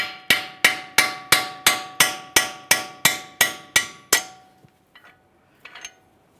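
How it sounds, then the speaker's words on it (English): A hammer strikes splined front strut bolts on a 2013-2020 Ford Fusion, ringing metallic taps in a steady run of about a dozen evenly spaced blows, close and sharp, followed by a few faint clinks. "we're going to tap these bolts out of place"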